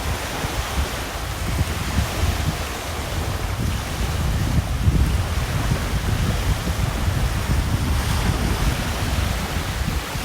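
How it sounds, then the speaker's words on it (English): Big ocean waves break steadily on a beachfront shore in Calauag, Quezon Province, Philippines, a loud continuous roaring surf with wind buffeting the microphone and no voices. "So here we have some big waves here."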